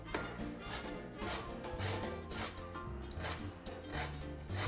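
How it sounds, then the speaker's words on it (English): A lemon and a lime zested on a grater, a continuous close rasping scrape with rhythmic strokes and low hum underneath, no talking. "So I'm going to use the zest and the juice of the lemon and just the lime zest."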